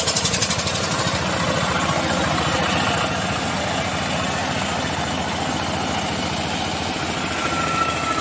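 Eicher or Farmtrac tractor engine labouring steadily at high load while stuck pulling a trolley, a continuous loud diesel drone with chugging pulses, close by.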